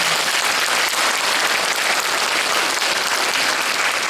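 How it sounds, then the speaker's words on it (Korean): A large audience at a 2017 Gyeongnam education office school concert breaks into loud, sustained applause, dense steady clapping that fills the room without pause and with no voices on top. "박수 한번 부탁드립니다."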